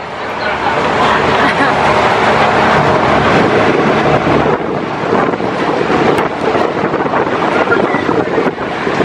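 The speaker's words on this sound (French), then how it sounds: "il va y avoir beaucoup de vent" Strong wind roars and buffets the microphone in a loud, continuous rush, with a voice faintly present beneath it.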